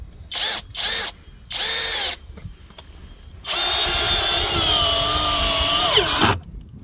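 Forte brushless cordless drill with a 45 Nm rating driving screws into wood, three short close whirring bursts followed by a long steady run of the motor that winds down abruptly, with no talk over it.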